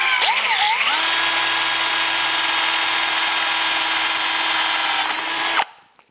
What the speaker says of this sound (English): so I'm going to pre-drill the holes here